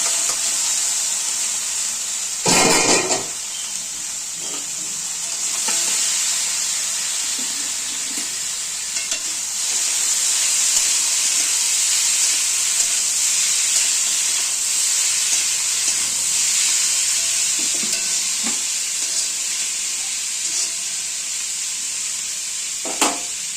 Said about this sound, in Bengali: তো আলুটা ভাজা বলে শুকনো লঙ্কা দিয়ে দিয়েছি, কালো জিরে দিয়ে দিচ্ছি। তা আলু ভাজা করব।